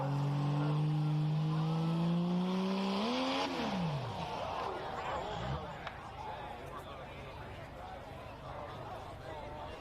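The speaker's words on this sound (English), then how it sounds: "Truck come off strong and then turned some major RPM" A diesel pulling truck at a Saturday night pull in Beloit, Ohio climbs hard to high RPM in a loud rising whine, then abruptly drops off and fades into a rougher, lower rumble with crowd babble around it.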